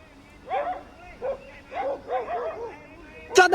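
A dog gives several short barks and yips in quick bursts at close to moderate range, with people talking around it.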